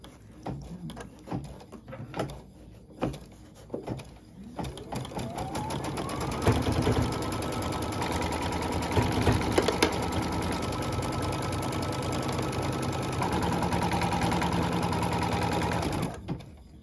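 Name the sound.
embroidery machine sewing foundation-pieced flying geese quilt blocks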